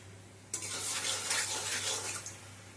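Panch phoron spices and dried chillies stirred in a pan give off a soft, steady sizzle with faint scraping as they are moved around, starting abruptly and carrying on for a couple of seconds.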